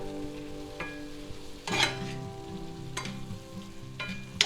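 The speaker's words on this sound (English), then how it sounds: "now we're going to stir that in there" Sausage, peppers and onions with onion powder and smoked paprika sizzle softly in a pan while a utensil stirs, scraping sweeps, with a few sharper clinks against the pan over the steady frying hiss.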